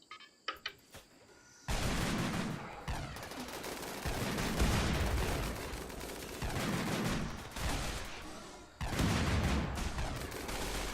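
Dense, sustained bursts of video-game gunfire as colonists shoot in Rimworld, a few faint clicks first, then loud continuous rattling volleys with brief dips between them.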